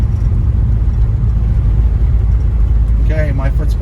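A restored 1955 Chevrolet Bel Air cruising in overdrive at about 40 to 50 miles an hour, a steady low engine and road drone heard from inside, with a voice breaking in near the end.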